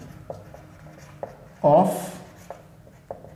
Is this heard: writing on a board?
yes